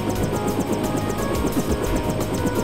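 A helicopter in the Deus Ex video game gives a loud, close, continuous rotor thrum with rapid rhythmic chopping pulses, heard alone without talk.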